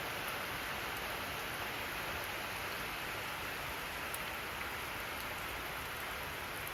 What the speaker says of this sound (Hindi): भाई बारिश नहीं रुकेगी आज